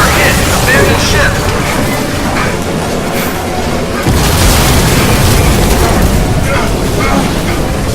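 A ship hit by an explosion in the Crysis 2 video game: loud, dense booming and rumbling with crackling bursts runs through the whole stretch, under urgent radio-style voices.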